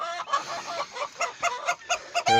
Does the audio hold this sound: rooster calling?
yes